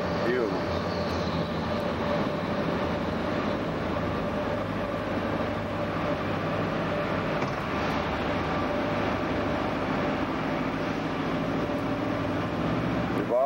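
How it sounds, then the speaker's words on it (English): Two large jet-engine-like ventilation fans roar inside a long road tunnel in Japan, a continuous, loud mechanical drone with steady low hum and whine under the constant rush of moving air. "That noise that you hear are two jet engine looking ventilators, we believe, for the tunnel fumes."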